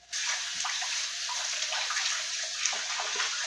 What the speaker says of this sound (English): I will rinse this because I don't know what else before I put my flour inside there.